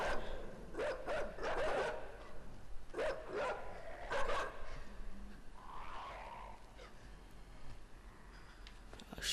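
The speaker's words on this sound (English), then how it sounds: "Those are dogs." Dogs bark in a game, several rough, fairly loud bursts in irregular clusters over the first few seconds, then a softer whine-like sound and a quieter stretch.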